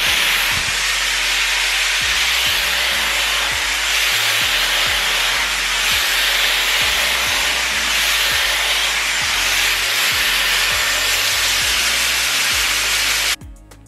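Dyson Airwrap styler fitted with a firm-bristle smoothing brush, a loud, steady close-up airflow hiss and motor whir running continuously before cutting off abruptly at the end.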